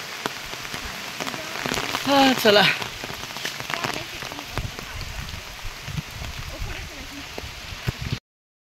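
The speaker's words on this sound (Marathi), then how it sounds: "चालले पण नेमका पाऊस आला." Steady rain falling on a village road in the Konkan, a constant close hiss with a brief burst of speech partway through.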